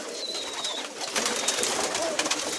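Pigeons coo and flutter close by, a dense busy murmur of birds with a faint whistle-like call early on.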